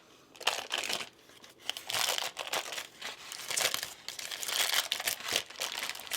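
Baking paper crinkles and rustles as it is handled while making cherry mash candy, a steady run of close, dry crackling bursts with no talking.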